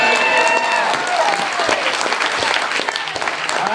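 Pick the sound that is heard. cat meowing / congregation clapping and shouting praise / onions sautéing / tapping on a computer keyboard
congregation clapping and shouting praise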